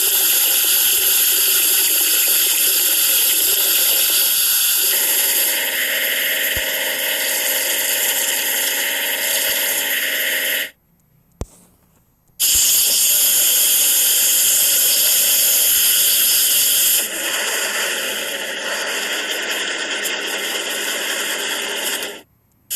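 Cartoon water spray washing a dump truck clean, a loud steady hissing gush that cuts out briefly partway through, then resumes strongly and runs on before stopping, with no voices.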